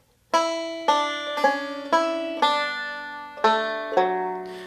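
A short, clear solo banjo phrase of seven plucked, twangy notes from the tune Whisky Before Breakfast, evenly spaced, each ringing and fading before the next.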